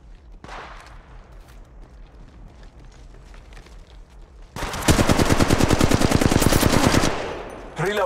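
Enemies fire guns in the mobile shooter Apex Legends Mobile, opening with a single shot and quieter movement, then a loud, rapid automatic burst that lasts about two and a half seconds before it tapers off.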